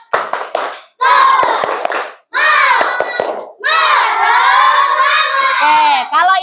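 Indonesian primary schoolchildren at SD N Malahpar, Rumpin, Bogor perform the tepuk semangat, a loud, close classroom clapping chant: bursts of rhythmic hand claps with shouted chanting, broken by short pauses.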